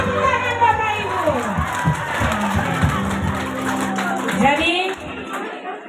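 Wedding guests clap and cheer at a reception in a loose burst of applause, with crowd noise throughout and a voice talking over it.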